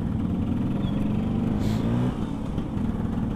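A Vespa scooter engine hums steadily while riding on a main road, a continuous near low drone with traffic noise and a brief swell in the middle.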